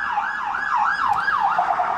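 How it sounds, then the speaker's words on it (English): An ambulance siren passes close by in a steady rising-and-falling wail, repeating about four cycles in two seconds, with its pitch dipping slightly as it moves away. "We'll let that ambulance go by."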